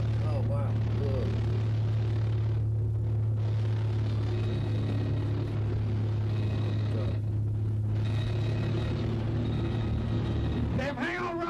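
A small propeller plane climbing over rising mountains before its engine stalls, heard as a loud, constant engine drone with steady tonal hum and people talking over it.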